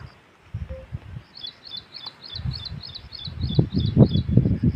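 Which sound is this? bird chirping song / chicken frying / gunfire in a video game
bird chirping song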